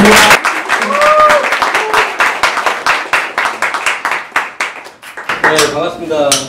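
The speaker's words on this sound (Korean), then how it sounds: "큰 박수 맞으세요" Audience applause welcoming a speaker to the front at a Korean forum gathering: dense, steady clapping from a crowd of people that thins into scattered claps, with a voice talking over it and continuing at the end.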